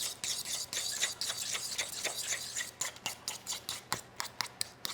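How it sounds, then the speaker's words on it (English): A utensil whips raw egg into hot rice for tamago kake gohan, making rapid, steady scraping and ticking strokes against the bowl that grow into a quick, even rhythm in the second half, quiet and close with no voices. "And now add the egg in and just start whipping the hell out of it"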